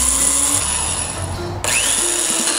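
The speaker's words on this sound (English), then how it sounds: "We're gonna start by drilling some holes in the bottom of the cup." Power drill boring holes through the bottom of a cup for a garden pest setup, a loud continuous whine that dips briefly midway then resumes at close range.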